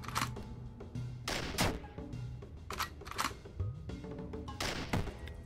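A matchlock gun fires in the Dungreed video game, with several sharp, punchy shot bursts spaced irregularly over a busy game soundscape.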